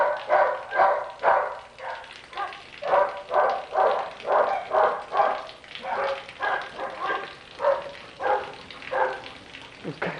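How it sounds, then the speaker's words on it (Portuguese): Several excited dogs bark repeatedly in rhythmic bursts at a farm during a cattle slaughter, fairly close and loud, with a steady rain-like hiss underneath. "Os cachorros loucos."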